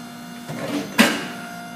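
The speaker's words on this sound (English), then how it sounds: "Once the cylinder hits material, it will raise this up to then push the compacted material outside the bottom" An Orwak 5031E compactor raises its ram to push compacted material out the bottom, giving a short mechanical whir that ends in a sharp clunk, close by over a low electrical hum.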